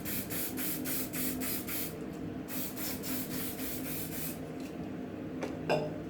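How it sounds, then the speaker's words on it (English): Hairspray hissing onto hair in repeated short spritzes up close, followed by a longer continuous spray and a few faint handling sounds. "I'm doing a little bit hairspray in it"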